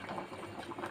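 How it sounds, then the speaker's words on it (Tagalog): Paksiw stew of salmon head with plenty of chili bubbling in a pot, a soft, steady simmer of small pops and gurgles heard close up with no talk. "Kumukulo-kulo-kulo na siya."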